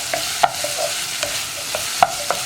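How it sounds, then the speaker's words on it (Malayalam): Potatoes fry in a pan for poha upma while a spoon stirs them. Sharp scraping clicks come every half second or so over a soft, low sizzle. "അതുവരെ ഞാനിങ്ങനെ ഇളക്കി കൊടുത്തുകൊണ്ടിരിക്കുകയാണ്"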